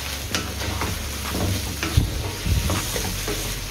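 A ground paste of tomato, garlic, ginger and green chili frying in oil for chicken pulao, loud sizzling with repeated scraping and stirring thumps from a utensil in the pot, no voices.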